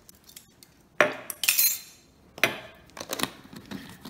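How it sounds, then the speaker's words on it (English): A metal teaspoon clinks and taps against a glass container while homemade vanilla extract is measured in, with several bright close clinks and light scrapes in short clusters. "I'll go ahead and put in a teaspoon of vanilla extract"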